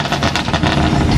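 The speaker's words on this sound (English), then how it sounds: "car is actually so loud" Roaring engine and exhaust of a loud BMW at a car meet, a close, heavy rumble with pulsing throb throughout a short burst.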